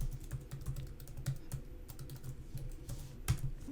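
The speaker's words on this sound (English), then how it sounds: "I need to enter my password, which is just the password for my computer" Password typed on a Mac computer keyboard: a steady run of quiet, close key taps with uneven rhythm and one slightly harder press near the end, with no talking.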